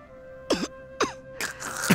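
A Genshin Impact character coughs and clears their throat in a few short, sharp bursts spaced about half a second apart, each sitting over a steady game music bed.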